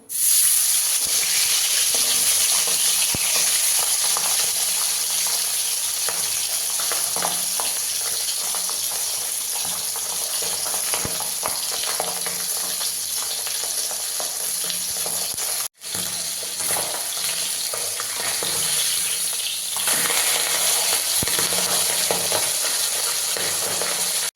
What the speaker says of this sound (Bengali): বাকি মাছগুলো এভাবে ভেজে নেব।